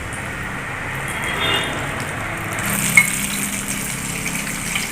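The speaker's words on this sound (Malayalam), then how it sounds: "എന്നിട്ട് നമുക്കത് ഓയിലേക്ക് ഇട്ട് കൊടുക്കാം" Coated chicken pieces for crispy KFC-style fried chicken drop into hot oil and fry with a steady bubbling sizzle, close and moderately loud, with a brief clatter partway through.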